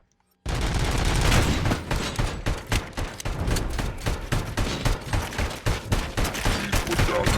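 Heavy automatic gunfire from the ED-209 enforcement robot in RoboCop: Rogue City erupts abruptly and rattles on in dense, loud bursts with deep thumps, continuous for several seconds.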